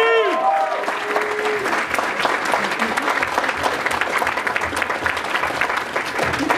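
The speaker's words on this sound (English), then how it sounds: "Guys, give a round of applause for Crazy Corgi." Audience applause fills a furry convention's closing ceremony, loud sustained clapping from a large crowd for the whole stretch, with a brief voice and a whistle-like tone at the very start.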